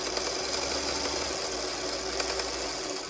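A sewing machine runs steadily while stitching a quarter inch seam on quilt block pieces, its continuous motor whir and rapid needle chatter close and unbroken for the whole stretch with no talking.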